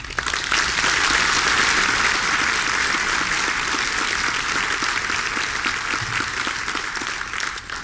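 An audience applauds to welcome Dr. Michael Economides as a speaker, a dense, loud, steady clapping from a large crowd that fills the room and tapers slightly toward the end.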